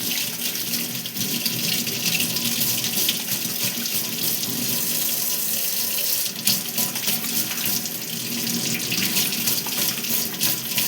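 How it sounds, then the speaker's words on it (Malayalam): Tap water runs steadily and loudly throughout, rinsing off a hair dye, with no talk over it. "ഇത് വെള്ളം ഒഴിച്ചാൽ പോവോ ഇല്ലയോ എന്നുള്ളത് ഇപ്പം നിങ്ങൾക്ക് കാണിച്ചു തരാം."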